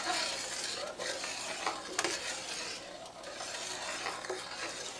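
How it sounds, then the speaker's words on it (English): A spoon stirs Sure-Jell pectin into redbud jelly in a pot, giving a continuous close scraping swirl with a few light clinks against the pot side over a soft hiss, and no one speaks. "And you stir that until it comes back to a boil."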